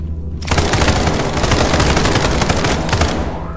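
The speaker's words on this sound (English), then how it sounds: "My shotgun killed me." Video-game gunfire blasts in a rapid, loud, continuous burst after a brief quiet start, close and harsh throughout.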